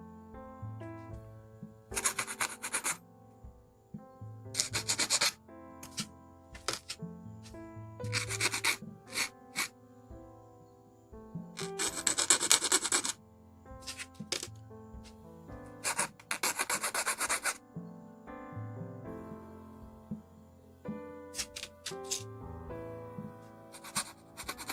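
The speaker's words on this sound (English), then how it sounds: "File down." Hand filing of a small nub on a plastic model kit part (a 1/100 Hasegawa Virtual-On Apharmd), heard as repeated bursts of close, scratchy rasping strokes separated by short pauses.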